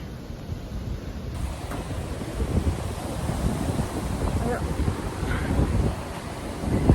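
Strong Midwest wind in tornado season roars and buffets the microphone in a continuous rushing wash that swells louder toward the end, with a few faint knocks underneath.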